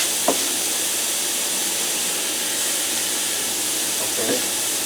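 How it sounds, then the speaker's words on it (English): Ground beef and diced onion brown in a Copper Chef pan, making a steady, even hiss of sizzling with a couple of faint knocks near the start and end. "I'm going to brown this until the beef is brown and the onions are translucent."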